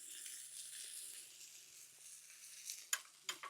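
Garlic and steak sizzle in a cast iron pan, a soft continuous hiss that settles lower midway, then two brief sharp spits or clacks near the end, close but quiet.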